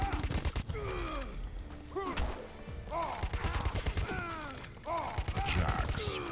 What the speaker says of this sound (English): just unload fucking rounds into him